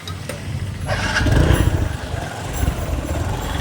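A motorcycle engine runs close by, a loud rough rumble that builds and then holds steady for a few seconds, outdoors.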